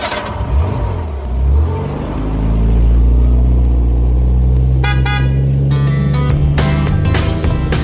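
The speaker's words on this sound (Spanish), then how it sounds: "Cogemos el coche porque seguimos ruta." A car drives with a steady, deep engine rumble that swells and holds, while several short horn toots sound near the end; no one speaks.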